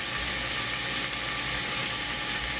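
Cut onion fries slowly in a pot over medium-low heat for Kashk Bademjan, giving off a continuous, fairly loud steamy hiss with no one speaking.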